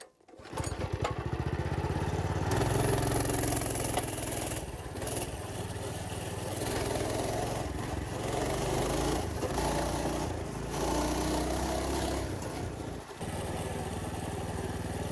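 A mini bike's small engine runs steadily on outdoor trails, a loud continuous buzzing drone that holds near after a brief start, with slight changes in pitch as it rides.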